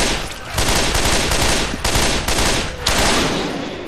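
Dense, rapid gunfire rattles almost continuously in a zombie shooter video game, with loud overlapping bursts and only brief dips between volleys.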